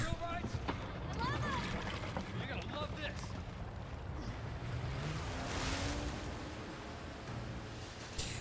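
A sea scooter in Resident Evil 4 Remake skims across water with a churning, splashing rush and wind-like wash, continuous under someone talking over it.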